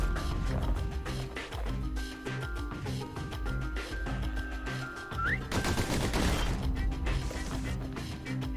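Gunfire in the video game Bastion, rapid bursts of shots crackling over a steady game soundtrack with a rising tone, a heavier crash near the end.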